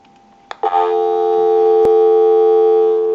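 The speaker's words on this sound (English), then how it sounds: "We'll give you some dial tone." A Western Electric 317 crank wall telephone, converted for dialing, gives a few clicks and then a steady, loud, continuous dial tone that holds for several seconds with one sharp click partway through.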